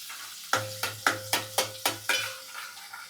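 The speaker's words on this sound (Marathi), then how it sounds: "नंगरी गरम झाल्यावरती तेल टाकले आणि तेल गरम झाल्यावरती लसूण टाकले" Garlic frying in hot oil in a pan as a utensil strikes the pan in about seven quick, evenly spaced scrapes, each with a short sizzling tail, close and moderately loud with no voices.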